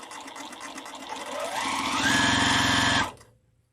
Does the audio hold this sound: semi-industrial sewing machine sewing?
yes